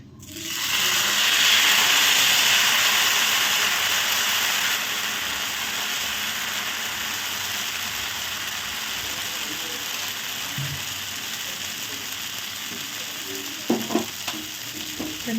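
Jowar flour dosa batter sizzles loudly on a hot oiled griddle, a steady bright frying hiss that settles to a softer crackle, with a few clinks near the end.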